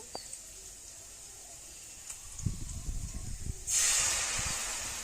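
Cashew paste for doi paneer goes into a hot pan, first a soft low hiss, then a few low thumps and a sudden loud, steady sizzle that carries on to the end.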